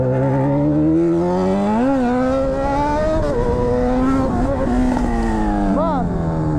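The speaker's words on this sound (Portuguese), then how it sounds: "Ela é uma moto muito forte." A Honda CB1000 motorcycle engine revs steadily and loudly up close, its pitch rising and falling through several throttle blips, with the engine drone continuing throughout.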